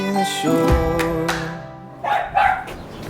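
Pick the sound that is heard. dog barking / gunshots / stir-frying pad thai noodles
dog barking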